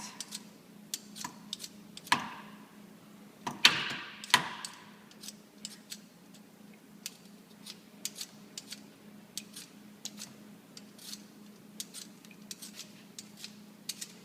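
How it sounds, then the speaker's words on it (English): A potato is scraped with a peeler in a quiet kitchen, giving short, light rasping strokes in an irregular rhythm, with a couple of louder knocks near the start. "This will be the last potato that I will peel, and then I will simply cut the rest."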